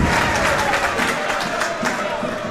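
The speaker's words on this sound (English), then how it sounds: "The crowd noise has increased." Home fans in a football stadium at a Barnet versus Maidenhead United match roar and clap in a dense, close wash of crowd noise, while a commentator speaks over it.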